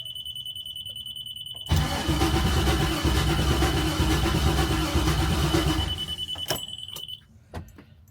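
A 1972 Chevelle RS engine cranks and catches on its first start attempt, a loud rough roar that holds steady for several seconds before dying away, preceded by a low hum and followed by faint clicks.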